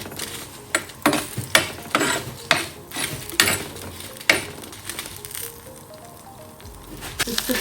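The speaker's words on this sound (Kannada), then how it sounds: "ಎಣ್ಣೆ ಕಾದಿದೆ, ಇವಾಗ ನಾನು ಮೆಣಸು ಹಾಕಿ ಸ್ವಲ್ಪ ಇದನ್ನು ಫ್ರೈ ಮಾಡ್ತೀನಿ." Black pepper frying in hot coconut oil for a Mangalore-style chicken curry, with crackling pops and sharp sizzling bursts early that settle into a quieter hiss.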